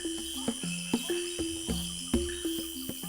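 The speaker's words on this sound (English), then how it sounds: "This basin tree frog has been calling for hours." A basin tree frog calls in the Amazon rainforest, giving repeated short croaking notes at a steady rhythm over a constant high insect drone, moderately close and fairly faint.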